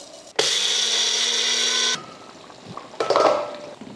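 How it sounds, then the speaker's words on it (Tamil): A mixer grinder powders roasted fenugreek, rice and cumin in a loud, close, high whirring burst of about a second and a half, then stops, followed by a shorter, rougher burst. "இப்போ வறுத்ததை பொடி பண்ணிடலாம் வெந்தயம் அரிசி சீரகம்"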